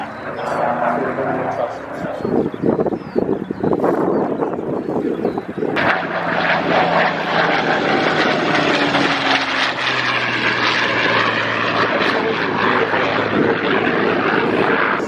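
An Avro Anson propeller aircraft flies at an air show, its engine drone rising and holding steady beneath an announcer's amplified commentary, with a dog barking in the crowd.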